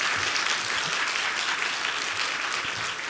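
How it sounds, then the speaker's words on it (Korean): A church congregation claps warmly for the Hallelujah choir and its new members during a Korean Sunday worship service, a dense, even wash of applause lasting about three seconds with no speech over it. "박수 한번 크게 보내주면 어떨까요?"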